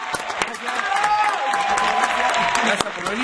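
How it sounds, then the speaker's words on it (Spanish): Studio audience applauding guest Franco Turnes on a show about reggaeton: steady, dense clapping for about three seconds with a sustained tonal line running through it. "Quiero pedir un fuerte aplauso para él."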